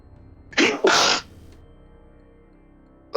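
Two quick, forceful sneezes burst out back to back from a nearby person, loud and sharp, followed by quiet room tone.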